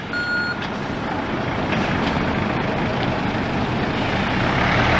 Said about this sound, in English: The truck there driving off